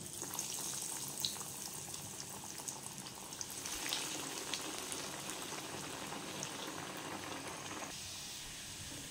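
Prawn potato chops sizzling in refined oil in a wok, a steady bubbling frying hiss that continues throughout with small crackles, close and even.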